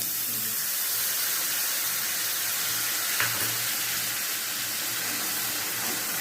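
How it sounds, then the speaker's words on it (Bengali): Nigella seeds temper in hot oil with a steady, hissing sizzle that stays even and close throughout, like a constant spray of frying noise. "ওই তেলের মধ্যে কালো জিরে ফোড়ন দিয়ে দিলাম।"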